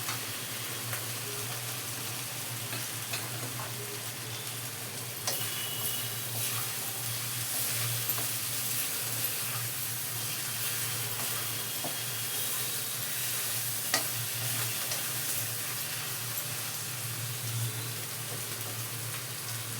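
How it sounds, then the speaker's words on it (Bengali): Hot water going into a nearly cooked, sizzling spice masala for hilsa roe curry: a loud, continuous frying hiss and steamy sizzle that holds steady throughout, close up, with faint stirring scrapes underneath. "এবার আমি এর মধ্যে পরিমাণ মতন গরম জলটা ঢেলে দেবো।"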